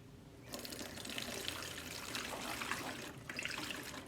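Liquid weed killer poured from a bottle into a container, a continuous close trickling and splashing stream of liquid, quiet and steady with a short dip midway and no talking.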